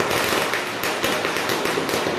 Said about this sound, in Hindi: मॉर्निंग से ही पटाखे फोड़ना स्टार्ट कर दिया था